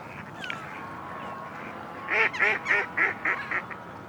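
Large ducks quack at a British seaside spot, a run of about seven rhythmic calls following a long thin whistle-like tone, moderately distant over steady outdoor background noise.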